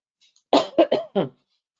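Several quick coughs in a row, close and fairly loud, then silence.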